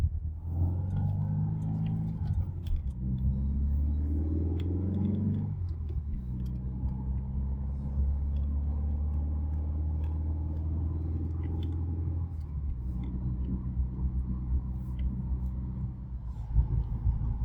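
A classic Volkswagen Beetle driving down a road in winter, its engine a low rumbling drone that rises through a couple of gear changes and then holds steady from inside the car.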